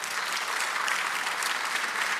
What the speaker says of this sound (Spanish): amén, dale el aplauso.